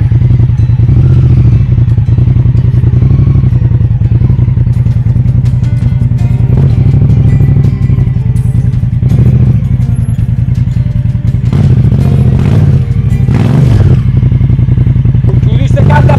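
A loud adventure motorcycle engine idles and revs repeatedly, rough and close, with clattering bursts as the throttle is blipped throughout.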